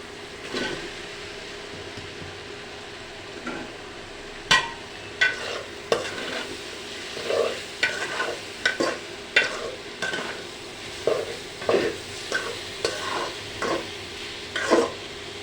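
Radish going into a pan of cooking poa fish with small shrimp fritters, followed by irregular scraping stirs and clatters of a spoon against the pan over a steady background hiss, with no talking.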